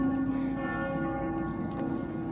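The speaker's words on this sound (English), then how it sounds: "the bells are not only ringing out from St Nicholas Cathedral below, but various other churches right across the city" Church bells ring out from St Nicholas Cathedral and other churches across Ljubljana, a sustained bright peal with long overlapping tones, heard from a distance above and around the city.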